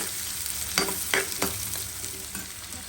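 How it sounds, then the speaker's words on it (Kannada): Onions frying in a pan for white-sauce pasta give a steady close sizzle, broken by a few sharp stirring scrapes and clinks, with no one talking. "ಸೊ ಆನಿಯನ್ನು ಸ್ವಲ್ಪ ಅರ್ಧಂಬರ್ಧ ಬೇಯಬೇಕಿದೆ, ತುಂಬ ಡೀಪ್ ಫ್ರೈ ಮಾಡೋಂಗಿಲ್ಲ"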